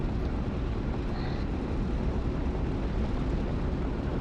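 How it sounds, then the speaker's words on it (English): A Warhawk fighter's engine drones steadily in a flight-sim game, a broad, even roar with no breaks across the short stretch. "Can hear a Warhawk."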